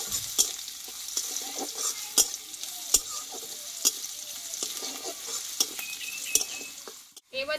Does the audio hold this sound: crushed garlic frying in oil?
yes